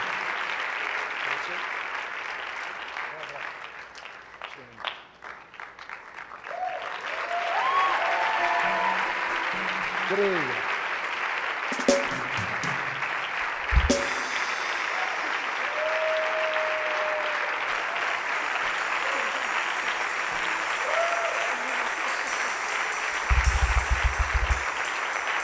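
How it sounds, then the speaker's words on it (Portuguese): A church congregation at a Sunday morning family service applauds in sustained, dense clapping that builds and holds for a long stretch, with a few brief voices and musical tones mixed in. "Aplauda mais ao Senhor."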